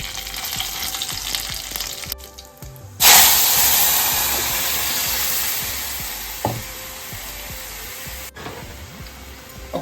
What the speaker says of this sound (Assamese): অকণমান মিঠাতেল লৈ পেলাই মই তাত ফ্ৰণ্ট মাৰিম কেইটামান পাঁচফোৰণ আৰু শুকান জলকীয়া